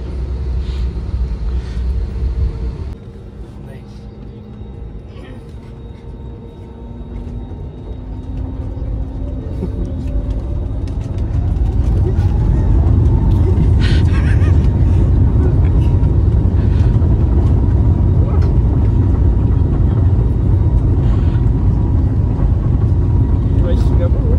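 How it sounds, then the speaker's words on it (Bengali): An Air India passenger jet taxis and then takes off on a flight out of Kolkata, the cabin engine hum rising to a loud, steady roar heard from inside the plane, with a voice talking over it. "টেক অফ হচ্ছে।"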